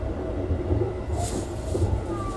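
Odakyu Ohayo Liner Shinjuku train pulling out of Odawara Station, a steady low rumble of wheels and carriage noise heard from on board, with a faint rising tone near the end.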